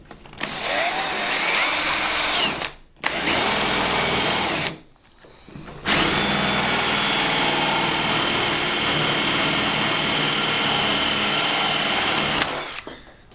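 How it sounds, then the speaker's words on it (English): A power drill with a 60mm flat wood bit whines loudly as it bores a hole in wood for a tubular latch, running in three long bursts separated by brief pauses, close by. "To drill the hole I'm going to use a 60mm flat wood bit."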